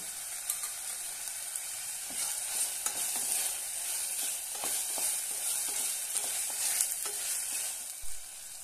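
A slit green chili and spices are sautéed in a pan for whole masoor lentil pulao, giving a continuous bright sizzle with regular spatula scrapes and taps, close and moderately quiet.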